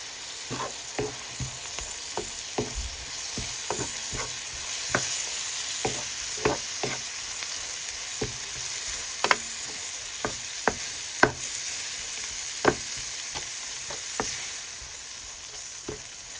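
Dried shrimp fry in a pan with a constant sizzling hiss, broken by frequent sharp pops and crackles at an uneven pace, close and moderately loud with no voices.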